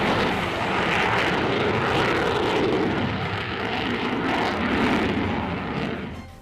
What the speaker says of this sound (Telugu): ఇది సింగిల్ సీటర్ సింగిల్ ఇంజిన్ విమానం